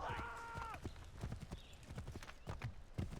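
Rapid horse hoofbeats gallop in a quick rhythm in the video game Assassin's Creed 3, with a brief neigh at the start and a voice talking over them.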